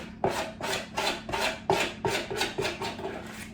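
A spoon scrapes fruity tea loaf mixture into a baking tin in a run of about eight rhythmic, rasping strokes, close and fairly loud, with no talking.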